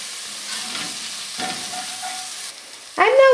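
Chopped chipotle pepper in adobo cooking in a pot for black-eyed pea chili, a soft sizzle with scraping stirs, then a sudden louder clatter near the end.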